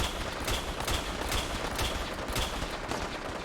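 Automated turrets fire in Fallout 4 during a heavy fight, a steady wash of rapid gunfire with repeated sharp bursts roughly every half second, loud and continuous without pause.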